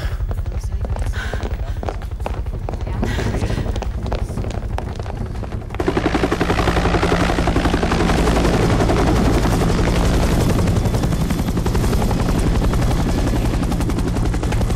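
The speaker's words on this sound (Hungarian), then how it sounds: "Figyelem, most szállt le egy helikopter!" A landing helicopter's rotor thumps in a rapid, steady beat, close and loud, growing fuller and more intense partway through.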